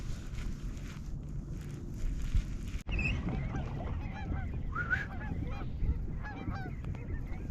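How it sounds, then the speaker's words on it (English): Geese or ducks honk repeatedly on Cottage Grove Lake in Oregon in spring, calls scattered at mid-distance over steady water and wind noise heard from a kayak, with a brief thump partway through. "Look at all the ducks."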